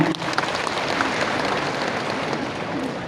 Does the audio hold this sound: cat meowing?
no